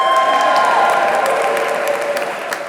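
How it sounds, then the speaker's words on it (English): A large crowd in the North Transept of Westminster Abbey cheers and applauds during a community awards ceremony, a loud, steady wash of clapping and voices filling the resonant space throughout. "I'd like to get, first of all, a cheer from the North Transept"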